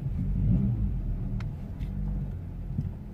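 A 2005 VW Golf with a faulty speedometer creeps forward a couple of meters toward a fence, giving a steady low engine rumble with a slight swell near the start and no voices.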